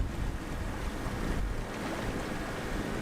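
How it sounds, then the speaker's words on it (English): Big ocean surf at Honolulu, a steady broad rush of breaking waves mixed with wind noise, loud and continuous with no talk. "Wow, there's some big surf today."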